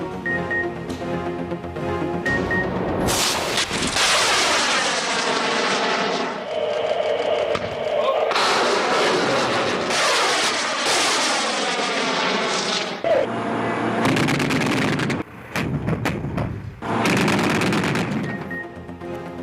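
Repeated bursts of heavy gunfire from Pakistan Army air defence artillery during a firepower demonstration, rapid volleys separated by brief pauses, loud and echoing outdoors.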